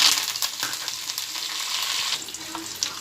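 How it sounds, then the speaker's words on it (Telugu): Dried chillies and curry leaves fry in hot oil for a tempering, giving a bright, hissing sizzle that stays loud throughout, close by, with no one speaking. "ఇదిగోండి తాలింపు రెడీ అండి."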